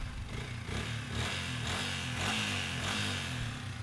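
A Yamaha Vixion motorcycle engine that had been cutting out suddenly is started and left running, giving a steady low rumble with a busy mechanical clatter on top. It sounds close and fairly even throughout, with no voices over it.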